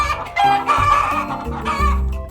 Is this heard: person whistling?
no